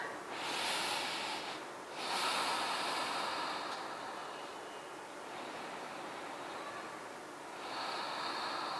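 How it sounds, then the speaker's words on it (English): Slow, deep breathing during a seated yoga twist, long airy inhales and exhales close to the microphone, rising and falling in several drawn-out waves with no talking. "Let's take a couple of deep breaths."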